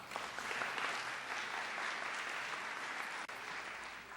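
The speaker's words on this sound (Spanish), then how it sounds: "Un fuerte aplauso," Audience applause fills a hall at a public event on health-system rights and duties: a steady, dense wash of many hands clapping for about four seconds, with no voices over it.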